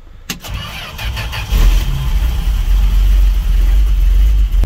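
A 1969 Dodge D100 pickup engine being jump-started after sitting a year cranks briefly, then catches and settles into a loud, rough idle close by.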